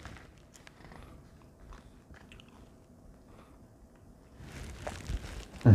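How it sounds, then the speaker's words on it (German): Someone chews a bar of matcha and Earl Grey tea chocolate close to the microphone with soft, irregular bites and crunches, and a louder burst of crunching comes near the end. "Ich muss hier ein bisschen kauen, damit das Video nicht noch länger wird."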